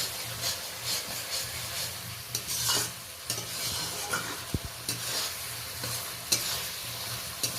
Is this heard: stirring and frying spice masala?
yes